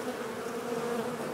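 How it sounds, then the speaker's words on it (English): Live honey bees buzzing during a winter abscond swarm removal, a steady dense hum of many insects, close and continuous. "We'll combine the rest of these live bees with another hive and let them flourish."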